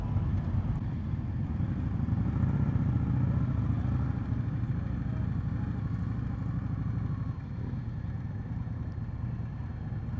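A 2020 Indian Scout Bobber motorcycle's engine rumbles steadily and loudly throughout a test ride on a demo day, a continuous low throb with no talking over it.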